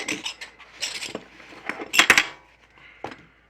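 Heavy-duty metal upgrade parts for an Axial SCX10 III RC car clink and clatter as they are handled, with sharp metallic knocks and rattles in short bursts, close by.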